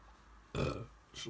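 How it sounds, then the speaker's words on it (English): A person gives a short, close burp, with a second faint burp right after, in a quiet room. "I'm always burping on here"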